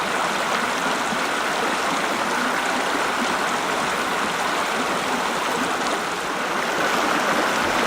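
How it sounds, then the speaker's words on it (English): A small brook rushing over rocks and down shallow rapids, a steady broadband wash of flowing water close by, constant and unbroken with no voices. "the brook seems to move around the waters and down the rapids here"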